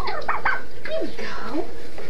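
Turkeys gobble repeatedly nearby, several rapid warbling calls overlapping one another at close range.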